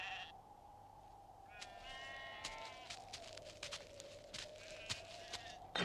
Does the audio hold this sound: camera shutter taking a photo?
no